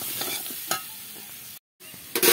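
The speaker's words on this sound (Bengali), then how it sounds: "করে নেড়ে ছেড়ে ভেজে নেব" Papaya curry fries in a pan with turmeric and salt, a steady sizzle broken by a few sharp spatula scrapes and stirs, with one brief gap of silence.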